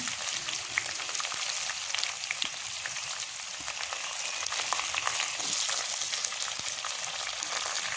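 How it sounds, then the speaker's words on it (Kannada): Chickpeas, peanuts, cashews, onion and tomato frying in oil for carrot rice, a continuous close sizzle with scattered crackles and light stirring scrapes throughout, no voices. "ಕಡಲೆ ಬೀಜ ಮತ್ತು ನೆಲಗಡಲೆ ಬೀಜ ಮತ್ತು ಗೋಡಂಬಿಯನ್ನು ಹಾಕ್ಕೊಂಡು ಫ್ರೈ ಮಾಡ್ಕೊಳ್ತಾ ಇದ್ದೇನೆ."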